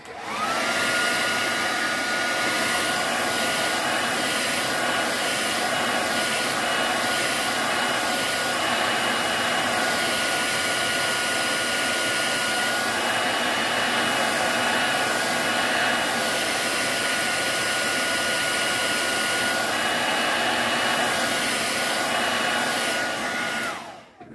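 A hair dryer blows steadily and loudly for over twenty seconds to dry a watercolour painting, a constant airy whine with no talk.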